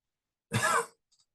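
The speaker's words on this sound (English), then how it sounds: "please cough" A single short cough, quiet and close, followed by a brief faint rustle, with silence around it.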